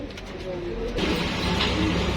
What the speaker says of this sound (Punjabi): ਇਹ ਜੇ ਸਿਆਲਕੋਟੀ 35 ਵਾਲੇ ਕਬੂਤਰ